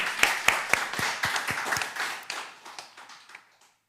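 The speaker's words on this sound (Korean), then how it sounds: "우리 하나님께 영광의 박수 올리겠습니다." A church congregation claps at a Korean Sunday service, a run of sharp, evenly spaced claps that loosen into scattered applause and fade out within a few seconds.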